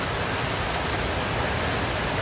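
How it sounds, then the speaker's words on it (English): Heavy rain pours down steadily beside a shelter among palm trees and driftwood at a zoo in Tampa, a dense, even hiss with no pauses and no voices. "As soon as I mentioned the rain, it started pouring down rain."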